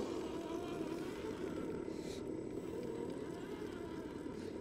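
An RC crawler car motor with a brushed system starts and runs as a steady, continuous whir with a broad low hum, holding fairly even loudness throughout.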